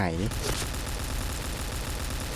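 Rapid automatic gunfire from a shooter video game rattles on without a break, dense and loud, for over two seconds.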